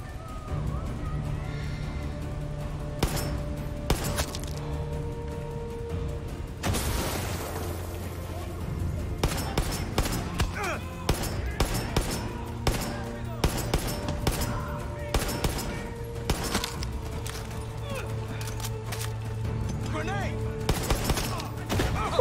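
Heavy gunfire from a big gun in Far Cry 6, a dense, continuous barrage of loud booming shots and blasts layered with chaotic battle noise throughout.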